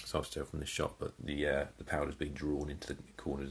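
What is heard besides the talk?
No everyday noise stands out behind the speech.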